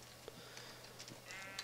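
Faint game-style sheep bleats sound from a Minecraft brown sheep, short nasal calls over a quiet background hum.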